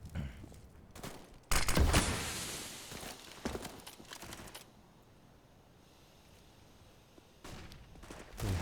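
Desert Eagle pistol shots in Counter-Strike on de_dust2 during a competitive match, a loud burst of sharp reports near the start followed by scattered fainter shots and background game noise.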